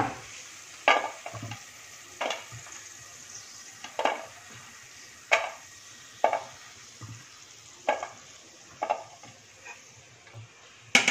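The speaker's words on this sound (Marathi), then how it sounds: "गॅसची फ्लेम स्लो ठेवून काजू आपण 2-3 मिनिटं फ्राय करून घेऊया." Cashew nuts fry gently in oil over a low flame, a soft steady sizzle broken by regular spoon stirs and clinks against the pan roughly every second.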